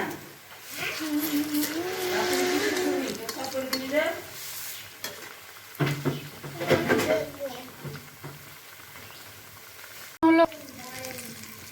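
Ripe jackfruit fritters sizzling and frying in oil in a pan, a steady crackling hiss with occasional stirring and utensil clinks, and people talking over it.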